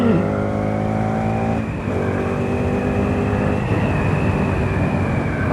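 Bajaj Pulsar NS200 motorcycle engine ridden uphill on a hilly road, a loud close buzzing drone with strong harmonics, a brief gear shift near two seconds, then steady high revving.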